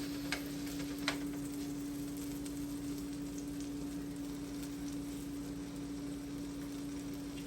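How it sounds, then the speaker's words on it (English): Salmon sautéing in a pan of melted fat, a low, constant sizzle with a steady hum and a couple of faint early clicks, no talking. "now I'm gonna add my salmon, okay? And what we're gonna do, we're gonna saute it"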